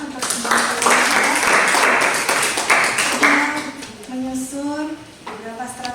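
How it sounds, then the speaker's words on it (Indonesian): An audience in a teaching session applauds everyone, a dense, steady patter of many clapping hands heard beneath an ongoing speaking voice. "mari kita kasih tepuk tangan untuk semua"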